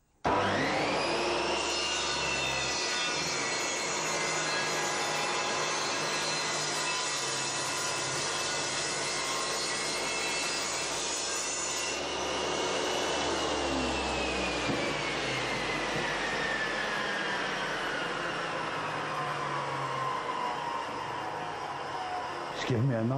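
Triton Workcentre saw planing the edge of a wooden board, a loud continuous whine with a droning roar that shifts in pitch as the blade cuts and then spins down, close and sustained, with speech heard alongside.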